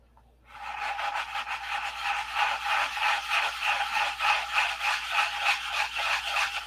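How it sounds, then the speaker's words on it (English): Steady rhythmic rasping of sandpaper scrubbed back and forth by hand on a surface, close and continuous, with no talking. "If you listen, you can tell when to stop sanding."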